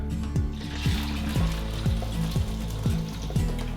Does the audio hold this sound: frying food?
yes